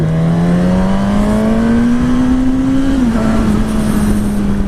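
A loud 2016 Suzuki GSX-S1000 motorcycle engine drone climbs steadily in pitch as it accelerates on an interstate, dips briefly at a gear change, then keeps pulling under constant wind rush.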